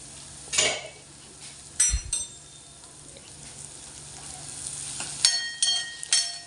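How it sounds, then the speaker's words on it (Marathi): Bitter gourd with ground spices and cumin sizzles in a pan, with a soft steady fry under repeated clinks and scrapes of a spoon against the metal pan. "हे पण छान असं परतून घ्यायचं आहे"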